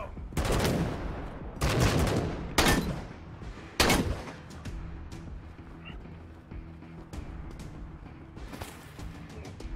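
A turret in the video game Wasteland 3 fires several heavy, loud separate shots at irregular spacing, each with a sharp crack and a trailing decay, then smaller pops over a low background hum.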